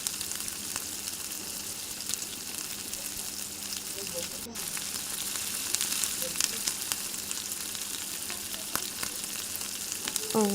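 Chicken pakoras frying in mustard oil over medium heat, a constant close crackling sizzle that grows slightly busier as more pieces go in, with occasional small clicks and a faint murmur.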